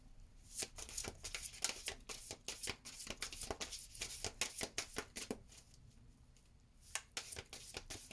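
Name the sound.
drawing a card from a card deck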